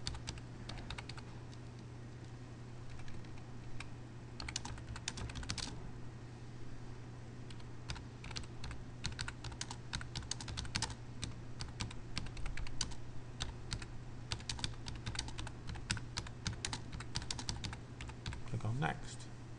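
Typing on a computer keyboard while entering text into a quiz page, a steady run of quick light key clicks close up, continuing under intermittent speech.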